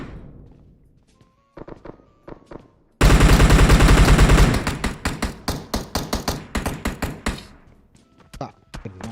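Gunshots in PUBG Mobile, one sustained loud burst of automatic fire followed by a series of sharp, evenly spaced single shots, with scattered shots before and after and voices talking now and then.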